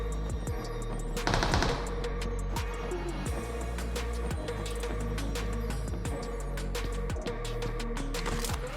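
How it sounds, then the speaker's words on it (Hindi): Gunfire in BGMI (PUBG Mobile), repeated sharp shots and bursts over a constant droning engine or ambient hum, fairly loud throughout. "यहाँ पे गोली चल रही होती है"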